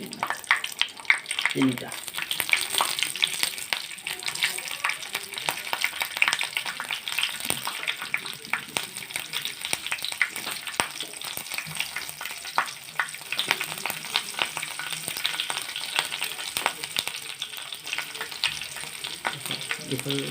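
Green chillies sizzle and fry steadily in a pan for a paneer vegetable curry, a soft continuous crackle with occasional stirring scrapes and a brief spoken word.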